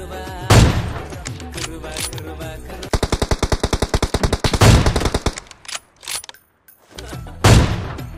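Rapid automatic gunfire from a battle royale shooter: a long, evenly spaced burst of close, loud shots with scattered single reports before and after, and quieter gaps between.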